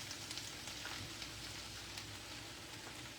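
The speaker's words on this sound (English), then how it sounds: "then the tuna, and then just let it saute" Tuna, peppers and cabbage sauté in a skillet, giving a soft, even frying crackle with faint pops throughout, quiet and unbroken.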